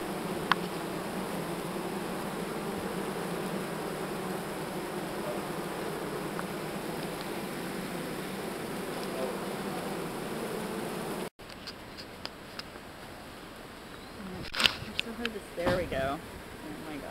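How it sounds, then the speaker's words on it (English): A swarm of bees from an opened hive drones in a dense, continuous buzz, fairly close for most of the stretch, then drops away as voices briefly talk over a quieter background. "Bees are gonna start flying around."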